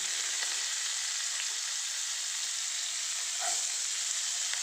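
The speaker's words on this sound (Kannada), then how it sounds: "ಸಾಸಿವೆ ಹಾಕಿದ ನಂತರ ಇವಾಗ ಆನಿಯನ್ ಏನಿದೆಯೋ ಕಟ್ ಮಾಡಿರೋಂಥ ಆನಿಯನ್ ಹಾಕೊಳ್ಳೋಣ" Chopped onion dropped into hot oil with mustard seeds for a raw banana palya, giving a loud, steady, dense sizzle throughout with no voices.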